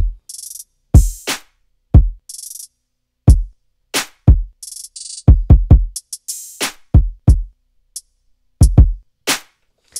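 Sharp layered hip hop snare hits land in an uneven groove, some doubled or layered with bright noisy tails, separated by short silences; close and punchy.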